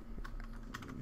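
Quiet keystrokes tap out a command on a computer keyboard while playing Minecraft, a short irregular run of clicks with no voices.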